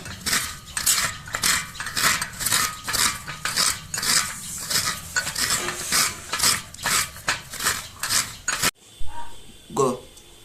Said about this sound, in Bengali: নারকেলগুলো পুড়ে নেব আমি।